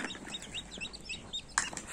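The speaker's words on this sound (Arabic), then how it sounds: "الفراخ دي هندي" Several Indian-breed chickens cluck and chirp softly in a coop, with scattered short calls over a faint background hiss and one sharper squawk near the end.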